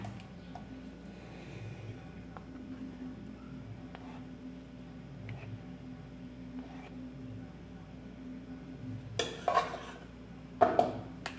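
A metal spoon clinks and scrapes against a pot of green corn porridge, faint stirring at first, then two sharper clinks near the end, with a quiet kitchen hum underneath.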